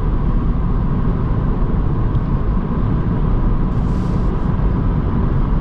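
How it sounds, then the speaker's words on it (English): Cabin noise inside a 2022 MINI Cooper Electric SE Hardtop 2 Door cruising at 75 mph: a steady, loud broadband road and wind roar without engine note, continuous and unbroken, with no talking. "75 miles an hour, not a ton of wind noise."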